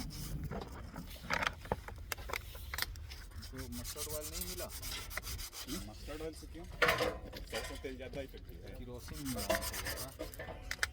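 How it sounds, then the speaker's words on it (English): Wire brush scrubbing rail ends before aluminothermic welding, a harsh, continuous rasping scrape with busy irregular strokes, close and fairly loud, with voices talking over it at times. "cleaned using kerosene oil and brushing with wire brush to remove all dirt, grease and rust before welding"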